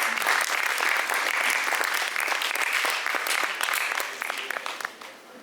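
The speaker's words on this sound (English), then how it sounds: "So they need a big round of applause." Loud, full audience applause at an award ceremony honouring forest firefighters, a thick continuous roar of clapping from a large crowd that fades away in the final second.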